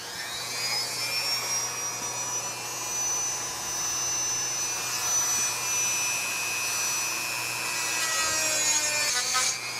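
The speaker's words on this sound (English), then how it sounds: "Chew it out with a Dremel." A high-pitched Dremel rotary tool whines steadily while grinding out a quarter-inch hole in a 16-gauge side-by-side shotgun, a sustained close buzz that shifts slightly in pitch before stopping.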